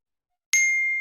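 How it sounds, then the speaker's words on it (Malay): A single bright phone message notification ding rings out sharply after a moment of silence, its clear tone sustaining and slowly decaying. "Ada mesej lah."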